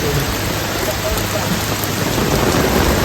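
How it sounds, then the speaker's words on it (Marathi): Heavy rain pours down in a loud, dense, unbroken hiss, close and constant, with a low rumble underneath. "फुल पाऊस पडतोय बघा"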